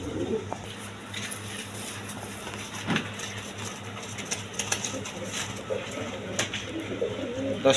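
A pair of Rajgolla pigeons in a large cage coo softly and steadily at close range, with faint background noise and no talk over them.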